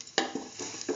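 Fennel seeds dropped into hot oil for a mustard chicken rice dish, crackling and sizzling with a few sharp spoon clinks and stirring scrapes in the pan, close and fairly quiet.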